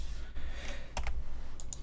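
Short bursts of keys tapped on a computer keyboard while dimensions are entered into 3D modeling software, a few quick clicks in a quiet room.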